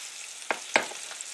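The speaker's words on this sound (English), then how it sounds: "We're going to stir that around." Peppers, onions and garlic fry in oil in a skillet, with a faint steady sizzle under two distinct scrapes of a utensil stirring them through the pan.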